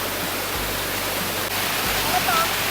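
Forceful water rushes steadily at Parakkat Nature Resort in Munnar, a close, continuous roar with no break, and faint voices may sit beneath it.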